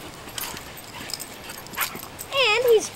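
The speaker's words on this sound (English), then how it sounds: "It's a pretty jumping Dalmatian." A Dalmatian puppy in a backyard lets out a single high, wavering whimpering yip near the end, close by, after quiet moments with faint talk.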